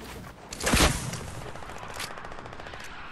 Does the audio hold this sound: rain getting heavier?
no